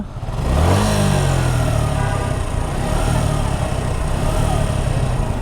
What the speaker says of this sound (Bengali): প্রথমে একটু সাউন্ডটা শুনি ইঞ্জিনের সাউন্ডটা